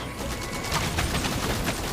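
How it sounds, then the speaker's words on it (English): Fireworks bursting at a festival in Genshin Impact, a dense, continuous crackle of pops and bangs with faint voices and game sounds mixed in. "Here come the fireworks!"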